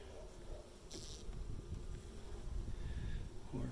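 Honey bees buzz at an opened beehive with capped honey, a soft steady droning hum with close passes from individual bees, faint and continuous.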